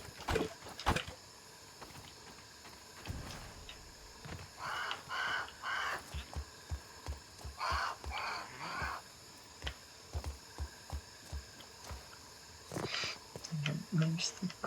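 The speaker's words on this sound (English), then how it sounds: "There's the crow making noises." A crow caws repeatedly in short rasping bursts, grouped in twos and threes at moderate distance, while a person talks intermittently over outdoor background noise in a game.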